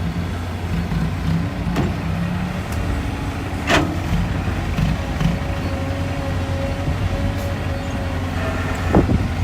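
Three excavators, including a Kobelco SK200 Mark 2, work a dirt site loading dump trucks, giving a steady low engine drone with occasional metallic clanks and hydraulic whines over light wind noise.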